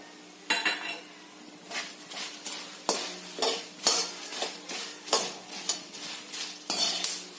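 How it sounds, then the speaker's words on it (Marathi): A spoon stirs and scrapes an onion-garlic masala roasting in oil in a pan: a quiet, regular series of scraping strokes with small metallic clinks and a soft sizzle underneath. "खमंग वास येऊपर्यंत हे भाजून घ्यायचंय"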